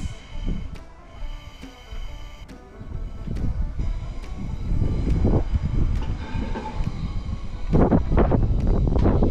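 Strong wind buffets the microphone in heavy, uneven low gusts that build and swell, with a few faint clicks over the rumble.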